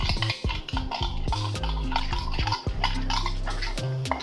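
An egg with half a spoon of black pepper is beaten for a chicken shashlik marinade, giving quick, rhythmic clinking strokes of a utensil against a bowl, close up, with no talking.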